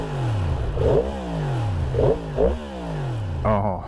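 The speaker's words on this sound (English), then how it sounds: "It's one of the best sounding motorcycles you can buy." A 2023 Yamaha MT-10 SP with its crossplane engine is blipped through several sharp revs, each rising quickly and falling back to a throbbing idle, loud and close.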